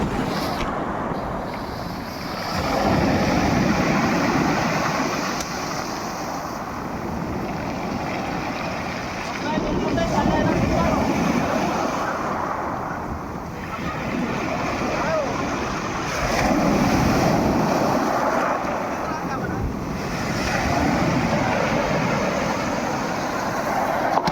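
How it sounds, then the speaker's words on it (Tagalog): Large ocean waves surge around a small boat at sea, rolling in slow heavy swells of rushing water and wind noise, close and loud. "Tataas ng bangka, lalaking alon."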